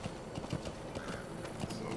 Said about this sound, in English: So I'm really riding a horse right now